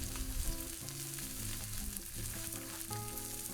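Olive oil and garlic sizzling steadily on a hot griddle, a close, continuous crackling fry with no talk.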